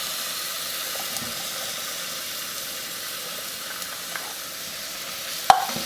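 Chili of tomatoes and beans in a pot being stirred, a soft continuous bubbling hiss with a few light scrapes and a sharp spoon knock near the end, no talk.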